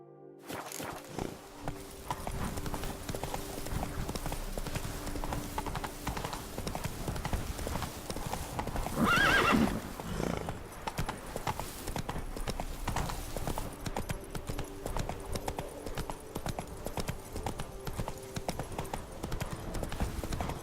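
Roach, the horse in The Witcher 3, clip-clops along at a steady trot, with a whinny rising near the middle.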